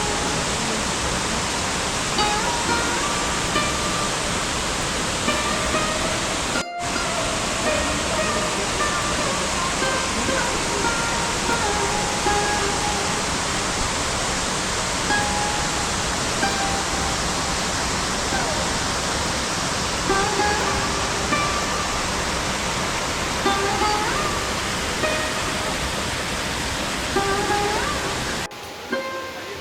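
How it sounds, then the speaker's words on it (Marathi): Jim Corbett waterfall in Uttarakhand drops from about 60 to 70 feet, giving a loud, continuous rushing roar that stays steady throughout. "आपल्याला पाण्याच्या प्रवाहाचा आवाज आता स्पष्ट ऐकू येत आहे"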